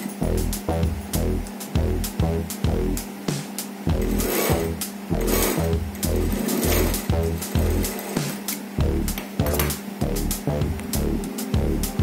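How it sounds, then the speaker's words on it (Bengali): Sewing machine stitching a tie, running in steady rapid bursts with a regular mechanical rhythm, close and fairly loud, with brief pauses between runs as the fabric is turned. "এবার ডবল সেলাই করে দিচ্ছি।"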